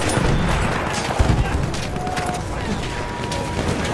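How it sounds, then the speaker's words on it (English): Machine gun fire in the World War I shooter Battlefield 1, a dense, continuous rattle of bursts under a busy battlefield din, loud and steady throughout. "There's a machine gun. I'm looking at a machine gun."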